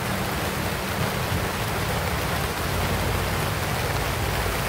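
Steady rain falling outdoors, a dense even hiss of drops on surfaces that continues unbroken throughout with no voices.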